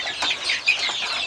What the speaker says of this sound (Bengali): দেশি মুরগি